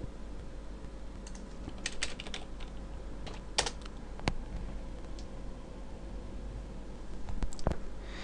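Someone types a web address on a computer keyboard, a short run of light, uneven key clicks in small bursts, close and moderately quiet against a steady background hiss, with no talking.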